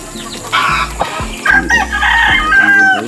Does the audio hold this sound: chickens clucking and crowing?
yes